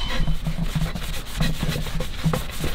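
Rag rubbed briskly over a bent three-piece car wheel wet with brake cleaner, quick repeated scrubbing strokes in short bursts, close up and fairly loud.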